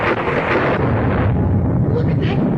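Thunder from a storm striking around an aircraft in flight, a loud continuous low rumble with crackling bursts that stays heavy throughout under the droning cabin.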